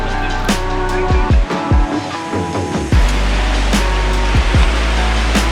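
The Parvati River flows along a trail in the Parvati Valley near Kasol, giving a steady, loud broadband rush of water. Brief clicks and thumps from nearby movement cut through it.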